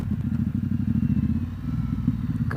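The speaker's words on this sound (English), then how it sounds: "God, I love the sound of that freaking exhaust." A Ducati XDiavel motorcycle's exhaust rumbles loud and close while riding, a steady deep pulsing throb with slight clattering texture and no speech.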